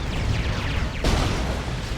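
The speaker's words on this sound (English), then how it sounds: "He's got a couple of burst cannons on those little mounted drones, and a big plasma cannon shot." Tau Hammerhead plasma cannon shot in Warhammer 40,000: Dawn of War 2, a deep booming blast that cuts through a dense roar of battle explosions and rumble.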